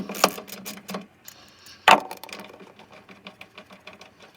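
Bolts being removed with a hand tool from a 1999 Acura Integra GSR during a fuel pump install, a run of quick clicking ratchet strokes with a sharp metallic clank midway, close and alone.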